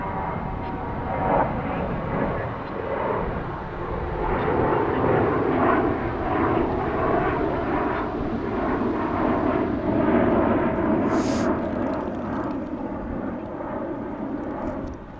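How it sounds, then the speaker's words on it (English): An Airbus A321 airliner departs DFW airport in Dallas, Texas, with a loud, steady jet roar that holds for the whole stretch, no voices. "Send those banana emojis on an A321 departing."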